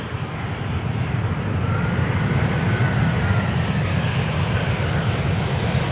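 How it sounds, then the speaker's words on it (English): A jet airliner's engines roar steadily and loud overhead as it comes in to land on runway 18R at Amsterdam Schiphol Airport, a broad continuous rushing drone with no talking. "a plane banking left and right just before touching down"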